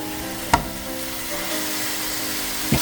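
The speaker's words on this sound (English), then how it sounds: "We're going to try to sear all sides as much as possible real quick." Pork ribs searing over high heat in a very large frying pan, a steady broadband sizzle with two sharp clatters as pieces are moved.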